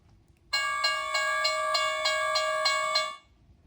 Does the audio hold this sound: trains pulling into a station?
yes